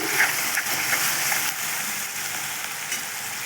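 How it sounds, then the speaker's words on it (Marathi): Spices, turmeric and red chilli powder crackle and sizzle in hot oil for moong dal, a steady frying hiss with small pops and occasional stirring, close and continuous. "तेलामध्ये छान घेऊयात परतून"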